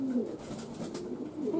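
Pigeons at a racing-pigeon training loft coo softly in low, rolling phrases, with a fainter coo returning near the end and no talking.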